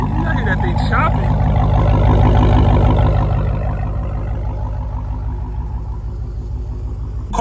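A widebody Dodge Magnum with a Hellcat engine idles with a choppy, lumpy rumble, a loud low throb that holds steady and then eases slightly, heard close up outdoors.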